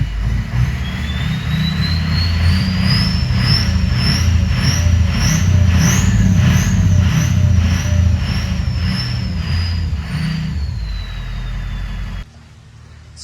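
A vehicle engine warms up at a steady, close idle with a constant droning hum and a faint whine on top, then cuts off abruptly near the end.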